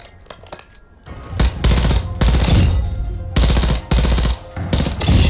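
A Cyber Riot 2 blueprint weapon in Modern Warfare 2 / Warzone 2 fires from the hip in loud, close bursts of rapid automatic shots separated by brief pauses, after a few lighter clicks at the start.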